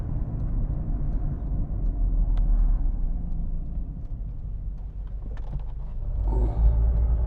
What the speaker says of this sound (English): if you hear that rattling in the background, that's just the heat shielding of the car